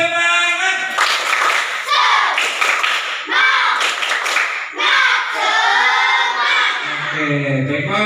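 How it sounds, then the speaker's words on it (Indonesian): Young children in a kindergarten class do a rhythmic spirit clap, chanting loudly in unison between bursts of claps and taps for several seconds, with a single voice speaking at the end. "Tepuk semangat."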